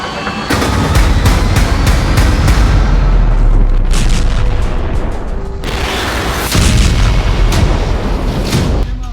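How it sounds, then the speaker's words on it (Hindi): Heavy booms and sharp blasts from tanks and artillery fire during a military exercise, in repeated loud bursts with a dense, rolling roar between them and a second cluster of hits later on. "ये टैंक और ये धमाके दिखाकर पुतिन को बताया जा रहा है"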